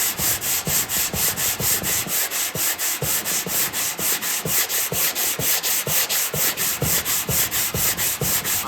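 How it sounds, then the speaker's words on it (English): A long board file, or line sander, is stroked back and forth across body filler on a C10 pickup tailgate. The coarse paper rasps in a steady rhythm of nearly two strokes per second, close and loud with no talking. "I'm gonna swap back to the board file. And line sander, whatever you want to call them."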